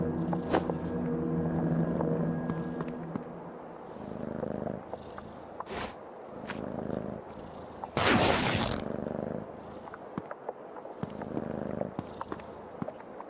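A cat purrs softly and steadily in the video game Creepy Tale 2, joined by scattered clicks and a brief loud burst of noise partway through.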